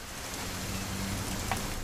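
Steady rain in What Remains of Edith Finch, a dense even hiss that continues throughout with no voices.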